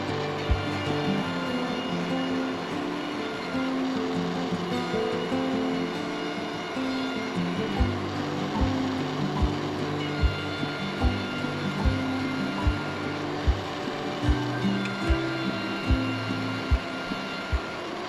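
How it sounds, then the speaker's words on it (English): DeWalt planer (thicknesser) planing a wooden walking stick, a loud steady whining motor drone with a series of thumps as the stick feeds through, close, with no talking. "I'm fortunate enough to have one of these beautiful DeWalt planers, or thicknessers as they call them in the UK and Australia"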